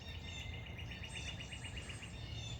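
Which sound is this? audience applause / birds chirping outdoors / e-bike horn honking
birds chirping outdoors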